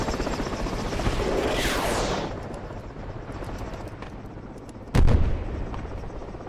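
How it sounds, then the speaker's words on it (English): An enemy helicopter passes overhead in the Project Reality military game, its rotor roar rising and sweeping by within a couple of seconds amid ongoing battle noise, followed by a single loud, sharp blast. "Enemy chopper on top of us."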